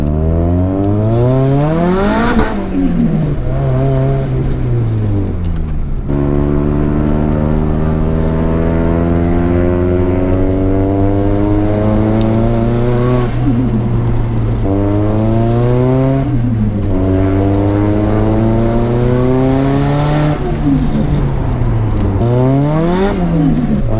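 A Nissan C33 Laurel engine revs repeatedly and loudly, its pitch climbing and dropping through several sweeps as it accelerates and eases off, heard close and continuous with no talking over it.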